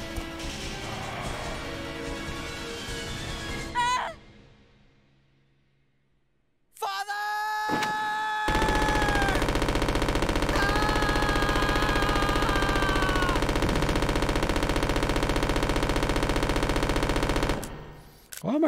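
Gunfire in the video game Resident Evil: Code Veronica X, a loud sustained burst of shots lasting several seconds amid game sound effects and tonal cues, with a quiet gap partway through and a voice heard beforehand.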